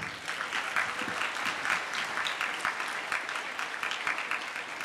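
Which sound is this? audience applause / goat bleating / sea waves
audience applause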